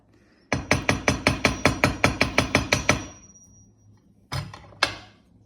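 A hammer strikes wire to flatten it for a triangle herringbone jewelry pendant: about a dozen quick, evenly spaced, sharp metallic taps, close and clear, then a pause and two more isolated knocks.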